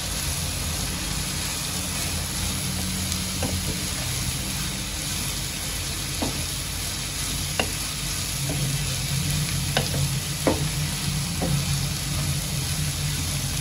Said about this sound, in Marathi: सर्वांना एकत्र मी तेलामध्ये चांगलं परतून घेते, तळून घेते